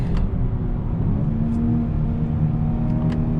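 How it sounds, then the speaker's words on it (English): A 2021 Honda Accord 2.0T Sport drones steadily from the cabin as its transmission downshifts in sport mode, a low engine hum with a brief rise in revs and faint mechanical creaks over constant road noise. "Man, even in sport mode, this transmission does not like the downshift."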